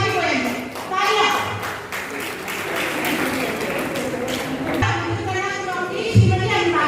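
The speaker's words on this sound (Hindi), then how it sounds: "तालियां" Audience clapping at a stage ceremony where guests are called up one by one; steady applause runs throughout, mixed with voices and an amplified announcer talking over it.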